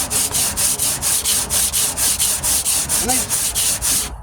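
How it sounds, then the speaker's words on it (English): Coarse 40-grit sanding on the rusty metal tailgate of a 1998 Ford Ranger, a steady run of about fifteen rhythmic scrubbing strokes, close and loud, with no talk. "I go this way, up and down, sideways, backwards, upside down. I go everywhere. And I sand until I find a low spot."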